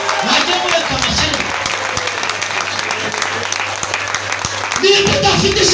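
Audience applause at a church prophecy gathering, a dense sustained clapping from a crowd lasting several seconds, with a voice speaking over it.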